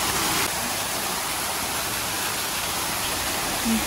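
Continuous broadband rush of falling water, steady and fairly loud throughout, with no talking.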